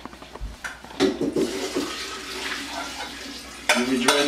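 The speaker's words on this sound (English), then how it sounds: "We're going to drain them." Cooked noodles draining as hot water pours out into a sink, a loud rushing splash that runs throughout with clattering bursts near the start and a fresh surge at the end.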